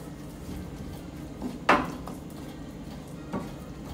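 Chili garlic stirred in oil in a pan, with a steady low sizzle and scraping, broken by one sharp clack of utensil on pan and a lighter tap later, close and moderately quiet.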